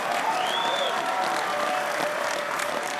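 An audience at a late-night comedy show applauding and cheering, dense continuous clapping with a whoop rising above it, loud and sustained throughout.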